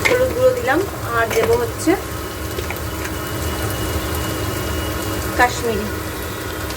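Potatoes and onions fry with spices in a pan, giving a steady sizzle with occasional scraping stirs, while someone talks over it close by.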